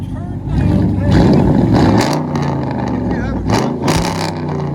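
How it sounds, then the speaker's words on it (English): A pickup truck's V8 revs through a large-diameter exhaust, a deep rumble that swells and falls in a couple of blips while people talk over it nearby. "The bigger the pipe, the deeper the sound."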